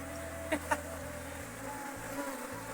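Honeybees buzz around a house hive in an Uttarakhand mountain village, a faint, steady low drone heard up close, with a couple of brief soft clicks early on and no speech.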